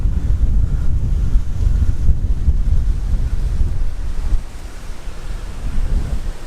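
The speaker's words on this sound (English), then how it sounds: "Bit of a gust of wind there" Wind gusts buffet the microphone at a campsite, a loud continuous low roar that rises and falls and eases slightly near the end, with no voices.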